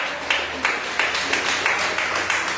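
Rhythmic clapping from a church congregation, steady beats roughly every third of a second, moderately loud and filling the room with no voices over it.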